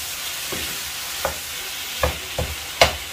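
Vegetables stir-fried in a pan for chicken jalfrezi: a steady low sizzle with a few distinct scraping stirs and clatters of a spatula, close and fairly quiet, no talking.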